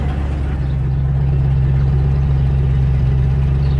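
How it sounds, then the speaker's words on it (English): A 4-litre Rover V8 in a 1994 Range Rover idles with a deep, steady, beefy exhaust burble, loud and close throughout with no voices. "I do like this Rover V8 4 litre, nice exhaust."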